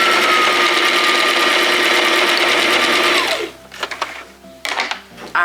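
A sewing machine runs steadily and loudly for about three seconds, stitching rows of a Christmas puff quilt together, then winds down and stops, followed by a few faint handling clicks.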